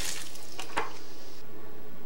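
Water splashing and pouring from a bucket while partially emptying an 80-gallon fish tank during cleaning, a short loud gush that tapers into quieter trickling.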